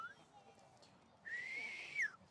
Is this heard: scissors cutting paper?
no